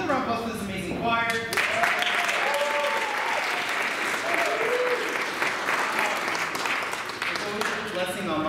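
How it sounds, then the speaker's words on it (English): A concert choir's audience applauds in a sustained, dense wash of clapping. A voice talks and cheers briefly over it near the start. "another round of applause for this amazing choir"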